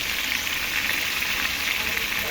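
Tilapia fries in hot oil, part of a two-kilo batch being cooked until golden brown, giving a dense, continuous sizzle and crackle close up, with no one speaking.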